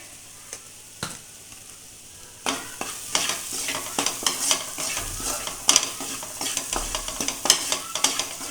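Black chili powder masala stirred and frying in a pan for a crab curry, with a few isolated scrapes and knocks at first, then a busy run of spoon scrapes and clinks over a soft sizzle.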